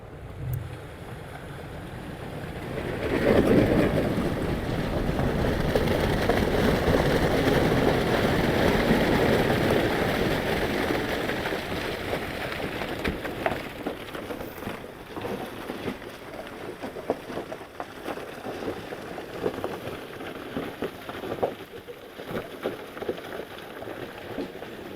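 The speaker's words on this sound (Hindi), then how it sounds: "बहुत बड़ा रेला ये।" Flood water surges through Hoper Valley in Hunza with a loud, continuous roaring rush that swells early and then stays broad and steady, with scattered crackles and rumble beneath.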